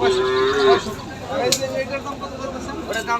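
A cow lets out a single clear moo up close at a cattle market in Tangail, Bangladesh, with a very small calf nearby, followed by quieter farmyard noise and faint background chatter.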